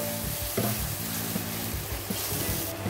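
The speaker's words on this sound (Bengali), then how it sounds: "আর এটাতে একটু জল দেব, মশলাটা যাতে জ্বলে না যায়। ভালোভাবে কষিয়ে নেব।" Homemade garam masala with a splash of water fries and is stirred in a pan for dahi pakoda curry, a steady close sizzle broken by scraping strokes of the spoon throughout, with no talking.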